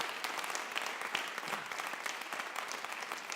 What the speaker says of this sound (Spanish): Un aplauso al Señor por esa sierva de Dios.